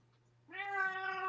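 A house cat lets out a single drawn-out meow, close and clear, rising in after a low background hum and holding steady to the end.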